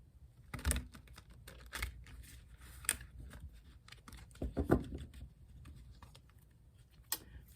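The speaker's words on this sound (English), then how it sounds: "One more shuffle." Tarot cards being shuffled by hand in quiet, a few scattered soft riffling bursts and taps with pauses between, close and faint, no talking.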